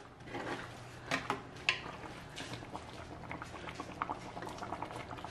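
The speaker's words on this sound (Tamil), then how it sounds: "இப்போ மிக்ஸ் பண்ணி போட்டு இன்னொரு 5 நிமிஷம் கொதிக்க விடுவோம்." A Jaffna-style sardine and boiled egg curry boils uncovered in a pot, giving a quiet, close, steady bubbling with scattered soft pops.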